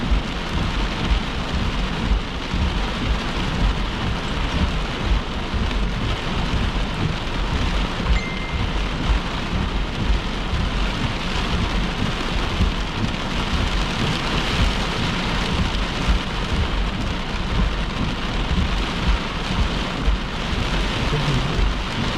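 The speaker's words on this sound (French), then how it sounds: "La grosseur de la grêle vient d'augmenter" A summer thunderstorm over the Lanaudière region drives rain and growing hail down in a loud, dense patter, with low rumbles of thunder rolling underneath and no voices.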